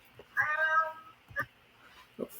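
A cat lets out one clear, drawn-out meow close by, followed by a couple of short, quieter chirps in an otherwise quiet room.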